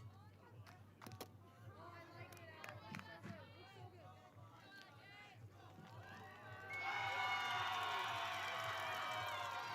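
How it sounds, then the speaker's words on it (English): A U.S. crowd at a roundnet gold medal match against Germany at the 2024 IRF Roundnet World Championships: commentary over scattered murmur, then a loud sustained roar swells after a break on net one. "The U.S. crowd, we hear the roar there after a break on net one"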